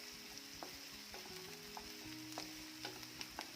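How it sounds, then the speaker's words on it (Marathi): Finely chopped onion fries in oil in a pan, a soft, continuous sizzle and crackle with a few faint stirring clicks, quiet and close, with no talking. "तर छान सोनेरी रंगावर कांदा आपल्याला भाजून घ्यायचा आहे"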